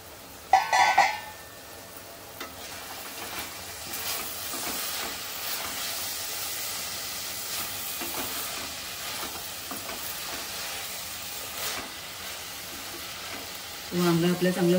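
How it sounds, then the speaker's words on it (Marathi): Brinjal and dry shrimp cook in a pan, steaming under a lid until soft, giving a steady soft sizzle and frying hiss throughout, with louder clatters of stirring or lid handling near the start and the end. "शिजेपर्यंत चांगलं वाफ देऊन शिजवा वांग."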